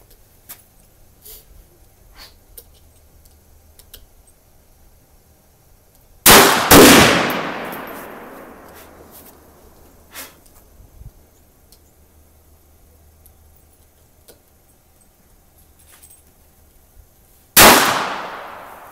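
Two .22 caliber gunshots fired several seconds apart, each a sharp, loud crack with a short ringing decay, separated by a quiet outdoor background with faint small noises.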